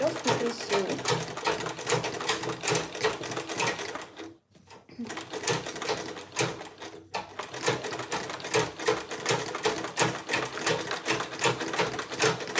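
A sewing machine stitches leather for a bag, its needle running in a steady rapid mechanical rhythm with one short pause, fairly quiet and close, while a person talks over it.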